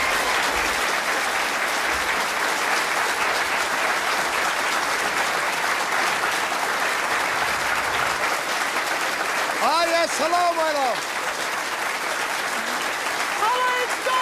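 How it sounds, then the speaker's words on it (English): Studio audience applauding for a television interview, a continuous dense wash of clapping that runs the whole time while a voice speaks over it with a brief greeting. "Oh, listen to that applause for you, my dear."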